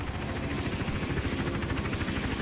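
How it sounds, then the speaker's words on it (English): Helicopter in the stealth video game Hitman Absolution, a steady rotor drone with low rhythmic chopping that holds at an even, moderate level throughout without speech. "there's still a helicopter around there"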